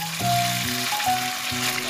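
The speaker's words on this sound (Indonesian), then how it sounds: "Kalau sudah panas, tuanglah adonan telur secara menyebar." Egg batter poured into hot oil in a frying pan sizzles with a steady crackling hiss, close and fairly loud, under a light background tone.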